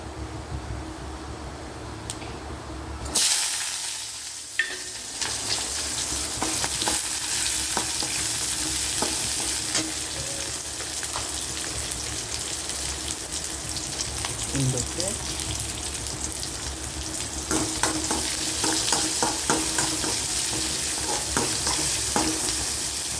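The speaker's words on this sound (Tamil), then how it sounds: "வாழைக்காய் பொரியல் செய்யலாம் பாருங்கள் வேவிச்சு கடுகு கடலப்பருப்பு பருப்பு பச்சை மிளகாய்" Mustard seeds, dal, green chillies and onion tempering in hot oil for a plantain stir-fry crackle and sizzle continuously after a sudden start, with spatula stirring scrapes and a steady frying hiss.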